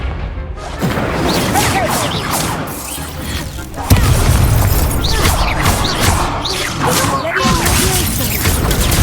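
Confringo and Incendio spell blasts from Hogwarts Legacy combat crack and boom in a dense, loud barrage with fiery whooshes, one heavy impact jolting the middle, with no talk.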